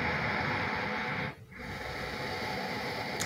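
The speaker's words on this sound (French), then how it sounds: "je vais rester ici avec une respiration Ujjayi, donc qui consiste à resserrer légèrement les muscles de la gorge." Exaggerated Ujjayi yoga breathing through a slightly tightened throat: a long, steady, hissing ocean-like breath, close and continuous, broken by one brief pause before the airy rasp resumes.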